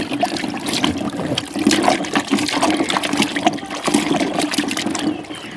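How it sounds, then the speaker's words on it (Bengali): Tap water runs steadily and splashes over mangoes being washed for pickle, a continuous close gush with uneven splattering and no voices. "এই আমগুলোকে প্রথম ভালোভাবে ধুয়ে পরিষ্কার করে নিচ্ছি"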